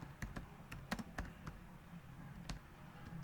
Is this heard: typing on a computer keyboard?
yes